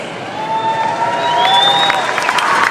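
Graduation ceremony crowd applauding the class of 2026, broad steady clapping mixed with cheering, with a whistle or two rising over the noise, and no talk.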